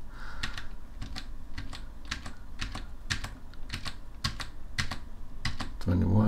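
Computer keyboard keys pressed in quick, evenly paced pairs, the Ctrl D shortcut hit over and over, close and crisp with a steady hum beneath.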